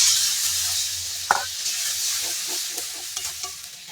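Water poured into spice paste frying with tomato, producing a loud close sizzle and hiss that gradually settles, with a few faint stirring scrapes.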